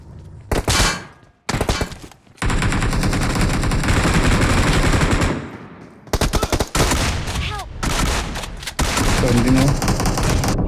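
Rapid automatic gunfire from the mobile shooter game PUBG Mobile, loud, close bursts of shots separated by brief pauses, with people talking over the firefight.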